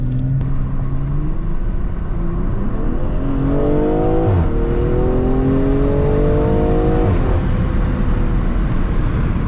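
A BMW M340i exhaust, loud and near, revving up through several sweeps with crackling pops and bangs breaking in as the throttle lifts.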